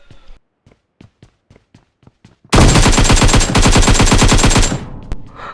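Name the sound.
gunfire in PUBG Mobile video game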